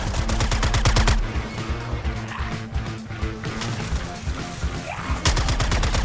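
Rapid automatic gunfire in the video game Suicide Squad: Kill the Justice League, loud, close bursts of fast regular shots at the start and end, with crashing impacts and combat noise between.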